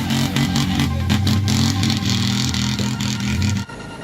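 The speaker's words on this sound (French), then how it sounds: "le samedi, ils n'ont que 4 cylindres sur 8 et le moteur fait un bruit inquiétant" A rally buggy's V8 engine runs rough on only four of its eight cylinders, a loud, close, uneven rumbling idle with clattering pulses that cuts off abruptly near the end.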